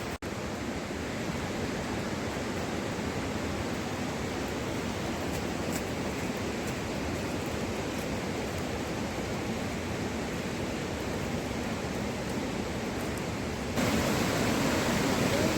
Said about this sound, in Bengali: শুনতেই পাচ্ছ এই ঝর্ণার কত গর্জন।